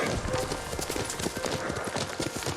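Steady rhythmic horse hoofbeats in Ghost of Tsushima clip-clop at a trotting pace with some faint French speech mixed underneath.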